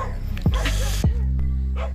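A dog gives a few short yips and whines close by, heard over a steady low engine-like hum.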